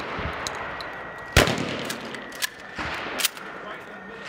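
A tactical shotgun fires a single round at an outdoor training class: one sharp, loud blast over steady background noise, followed by a few fainter knocks and handling clicks.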